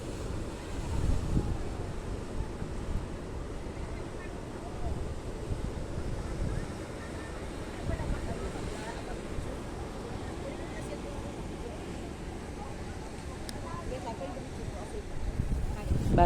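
Sea waves wash against the rocky shore at Cape D'Aguilar in a continuous low rumble, partly masked by wind buffeting the microphone, while people chat nearby.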